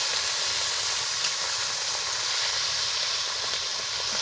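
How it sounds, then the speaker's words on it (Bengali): Fish sizzling in hot oil in a small pan, a steady close hiss and crackle that stays even throughout with no talk. "এখন এই সময় আমরা দিয়ে দেবো মাছগুলা ভাজার জন্য"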